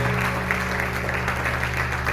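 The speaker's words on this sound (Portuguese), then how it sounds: "Aplauda o Senhor com o coração" A church congregation at a Sunday service claps together in sustained, even applause that fills the room without a break.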